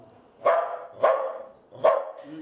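A dachshund barks three times in an even counting rhythm, each sharp, close bark spaced about half a second apart, followed by a brief soft whine.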